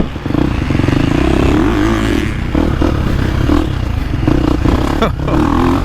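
A dirt bike engine runs close and loud, revving and shifting pitch, with rattles and scrapes from the ride mixed in.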